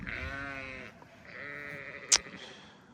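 Sheep bleating on a farm during lambing season: one long wavering bleat, a pause, then a second bleat, with a brief sharp click just after and quiet barn ambience throughout.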